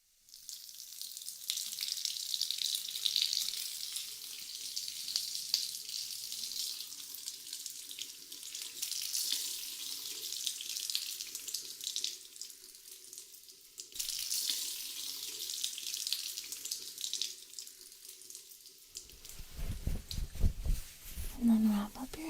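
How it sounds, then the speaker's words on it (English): Warm tap water runs steadily, rinsing oil out of hair at close range, a continuous hissing splash with soft breathy whispering over it and a brief louder gush near the end. "I'm going to rinse it out using warm, invigorating, sparkling water"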